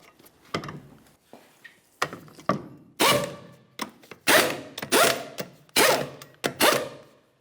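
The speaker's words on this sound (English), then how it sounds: "Start on all 5 of your 19mm lug nuts, bottom them out." 19mm lug nuts being run onto a rear wheel of a 2003-2007 Honda Accord, heard as about a dozen sharp, close mechanical bursts of spinning and rattling in quick irregular succession, with no talk.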